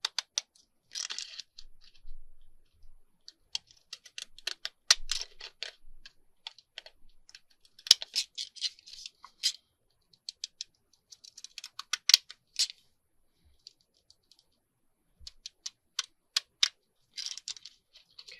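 Small, crisp snipping clicks of mini pinking scissors cutting paper come in irregular bursts, close and fairly quiet, with short pauses between runs of cuts.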